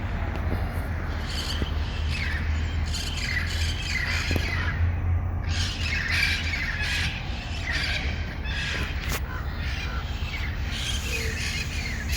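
Harsh, repeated squawks from several parrots ring out over a steady low rumble of background noise, continuing throughout at fairly close range, in Hastings Ranch, Pasadena.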